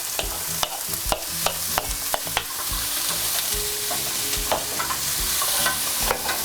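A vegetable mix sautéing lightly in a pan, a steady sizzle broken by frequent sharp clicks and scrapes of stirring, close and alone.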